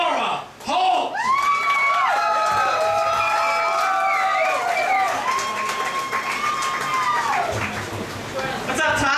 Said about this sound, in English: I want everybody to give a big round of applause for the exalted Dr. Laura Holt.